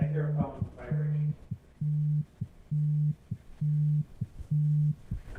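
A phone goes off, a steady repeating electronic tone pulsing in regular on-off bursts about twice per second, with a brief voice near the start.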